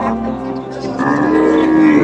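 A cow moos loudly and close by at a crowded cattle market ahead of the Qurbani festival, a long sustained low call filling the whole moment.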